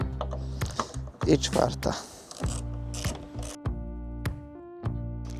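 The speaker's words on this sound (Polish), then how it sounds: "teraz musimy w strycie wykręcić te same śruby. Jedna poluzowana, druga, trzecia" Bolts being loosened on a Triumph Street Triple 765 RS motorcycle: repeated close mechanical ratchet clicks with metallic ringing tones, brief bursts with pauses between, and someone speaking briefly.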